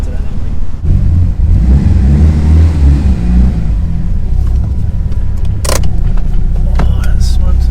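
A Mitsubishi Evo fitted with a new turbo pulls away on a drive, a deep rumbling engine drone building and holding close under cabin noise, with a sharp hiss or whoosh near the end.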